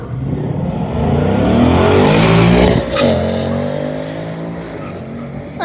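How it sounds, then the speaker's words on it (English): A black Mustang with gold stripes makes a drag racing pass. Its engine revs up loudly, rising and then falling as the car speeds away, with a brief tire squeal mid-run and no voices over it. "the black with gold striped Mustang is making yet another pass at 8:31, 90 mile an hour"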